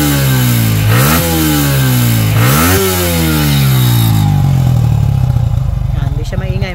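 A Sniper 155 motorcycle fitted with a new exhaust pipe revs hard in repeated rising bursts, loud and close. The engine drops toward a rough idle near the end.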